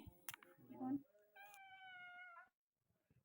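A cat meows loudly in one long, drawn-out wail after a brief burst of talking, then the sound drops to near silence.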